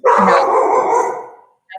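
A pet dog at the door barks at a passing trash truck, giving one loud, close, drawn-out bark with a faint second yip just after.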